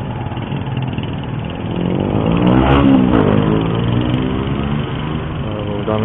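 Tricycles and motorcycles pass on a street in San Isidro, Montalban, their engines droning close and loud with a rising, passing roar in the middle while someone talks over the traffic.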